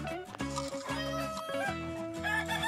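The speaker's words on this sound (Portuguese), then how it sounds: "Tá alimentando as galinhas." Chickens being fed corn cluck and squawk continuously at close range, several birds overlapping with a busy, excited chatter.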